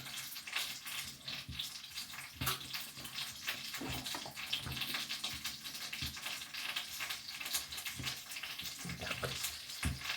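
Steady crackling sizzle of pastry frying in a covered pan, broadband and continuous with occasional louder pops, no talking.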